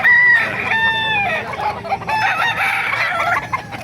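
Roosters crow repeatedly among clucking chickens at the Bocaue tyangge market, the long harmonic calls loud and close, overlapping across the whole stretch with a busy market background.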